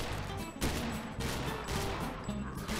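Gunfire in the VR shooting game Gun Club VR, a rapid series of sharp shots in quick bursts, close and loud, with no talk over them.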